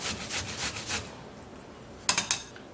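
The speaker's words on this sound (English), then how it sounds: "So I'm going to be grating it and extract the juice." Watermelon is rubbed against a grater in quick rhythmic rasping strokes, close up, followed by a pause and a few sharper scrapes.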